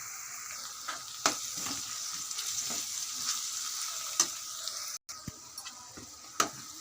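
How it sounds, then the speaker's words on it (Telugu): Ginger garlic paste frying with onions in a pan, a steady soft sizzle with occasional stirring scrapes and clicks from a spoon, close and fairly quiet with no talk. "అల్లం వెల్లిపాయ పేస్ట్ వేసుకుంటున్నాం. అది పచ్చివాసన పోయేదాకా వేపుకోవాలి."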